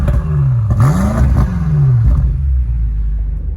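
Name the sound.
BMW M8 Competition car driving in comfort mode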